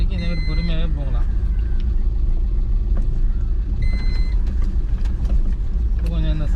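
Car driving slowly along a bumpy village road, a steady close engine and road rumble with faint rattles and occasional high beeps, under someone talking.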